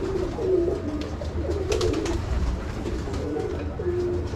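Pigeons of several breeds coo repeatedly on a rooftop pigeon farm, their low throaty calls steady and close against a constant background hum, with no talking.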